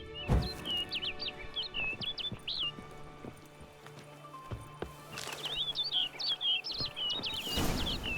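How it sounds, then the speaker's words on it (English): Birds chirping in The Witcher 3: Blood and Wine, quick bursts of high twittering at the start and again near the end, with soft footsteps and clip-clop below and no talking. "Flew off. Follow the bird."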